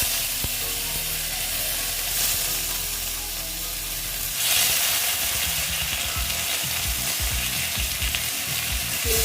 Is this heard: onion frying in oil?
yes